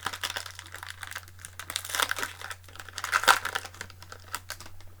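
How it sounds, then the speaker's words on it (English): Jumpstart card booster packs being opened, their thin plastic seals crinkling and crumpling in close, irregular bursts with a steady low hum underneath. "once you open up the packs, they have a little plastic seal around them"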